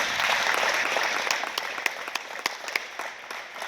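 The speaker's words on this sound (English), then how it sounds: "Round of applause for that." Applause from the audience at a press event for a country music tour stop in Sacramento, a steady wash of clapping that thins toward the end into scattered individual claps.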